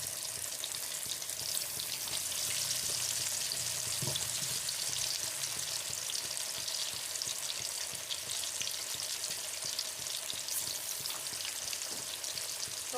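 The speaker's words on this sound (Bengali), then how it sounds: "তো আলুটাকে নেড়ে সেটা আমি একটু ভেজে নেবো" Potatoes fry in a pan for chicken curry, a dense, continuous close sizzle with occasional faint stirring scrapes and no talk.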